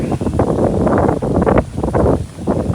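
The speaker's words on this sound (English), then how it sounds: "Woo, windy right here." Strong winter wind buffets the microphone on a hiking trail in Yankee Springs, Michigan, a loud rumbling roar that gusts and dips for a few seconds with no voices.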